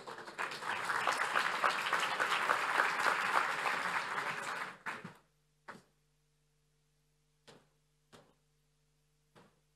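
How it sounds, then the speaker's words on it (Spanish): Audience applause at an eCommerce Day conference in Santiago, dense and steady for about five seconds, then stopping abruptly and leaving a few isolated knocks and taps in a quiet room. "Un fuerte aplauso para ellos."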